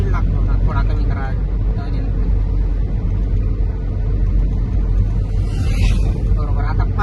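A car engine drones steadily with a low, loud rumble while driving and building speed before a shift into fifth gear, with a person talking over it.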